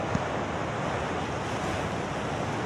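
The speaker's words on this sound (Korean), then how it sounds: "계속 드라이브를 하면서 동해안의 거센 파도를 바라보았습니다." Strong surf pounds the East Sea coast at Uljin's Jukbyeon shoreline, a steady roaring wash of breaking waves mixed with wind buffeting, with no voices.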